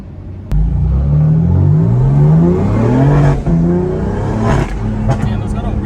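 BMW M4 Heritage Edition accelerating hard with a loud, close engine roar, rising in pitch then dropping at a slightly delayed upshift before climbing again, with voices talking over it.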